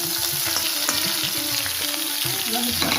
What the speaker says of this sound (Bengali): আমি ঢাকা দিয়ে দিয়ে ভাজি